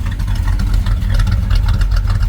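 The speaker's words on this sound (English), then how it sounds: "This old truck runs good." An old Chevy C10 pickup truck engine idles steadily with a low, rumbling drone, close by and even in loudness throughout, no voices.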